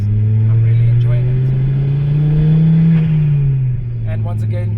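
A 2011 Ford Focus ST 225 accelerates, its intake and engine making a steady low drone that climbs in pitch around the middle, then eases back. The drone stays loud and close throughout, with faint voices underneath.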